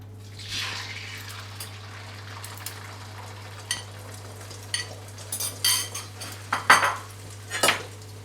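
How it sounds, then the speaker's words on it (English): An egg cracks into hot cooking oil in a wok for egg fried rice. A soft sizzle is broken by scattered clinks and scrapes of a utensil against the pan, close and fairly quiet over a low hum, with no talking. "So I add the cooking oil and put the egg."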